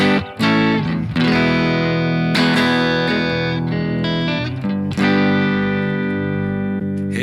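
Electric guitar played through a Fender Twin cabinet impulse response on a BOSS GT1000 rings out in full, reverberant chords, struck several times with long sustain and no talking.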